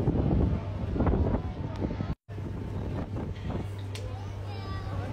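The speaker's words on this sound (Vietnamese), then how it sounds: "Gió không hề mát nha mọi người." Desert wind buffets a microphone outdoors in Las Vegas at night, a steady loud low roar with gusty rumbles, briefly cut out midway before resuming, with voices talking underneath.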